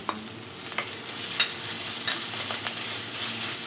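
Cut tomato sautéing in a pan for kovakka (ivy gourd) curry, with a steady sizzle and a series of scraping stirs, close and clear, with no talking.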